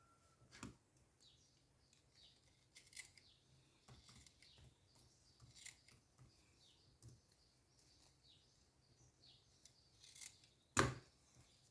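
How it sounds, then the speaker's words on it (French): Scissors snip through paper while a wedding invitation card is trimmed, giving a string of quiet, crisp cuts spread across the stretch and one sharper, louder snip near the end. "je vais couper tout ce qui dépasse derrière"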